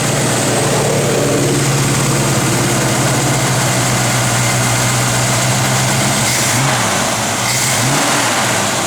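A 1965 Ford Mustang with a 289 V8 running close by, its loud, steady engine drone holding throughout with a slight rise in revs partway through.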